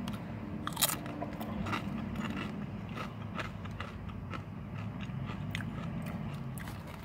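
Doritos tortilla chips being eaten at a work lunch, with soft irregular crunches and bites standing out faintly over a steady low background hum, no talking.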